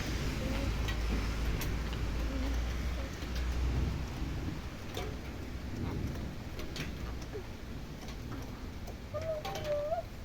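A thunderstorm with steady heavy rain and distant rolling thunder, the downpour loud and continuous throughout, with faint bird chirps near the end.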